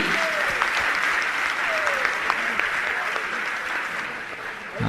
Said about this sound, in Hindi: जोरदार ताली बजावें इन सभी पदाधिकारियों के लिए